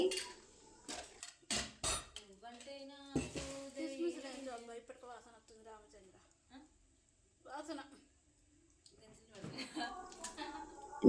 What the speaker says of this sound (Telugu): స్టవ్ పైన అదే ప్యాన్ పెట్టుకొని అందులో నెయ్యి వేసుకోండి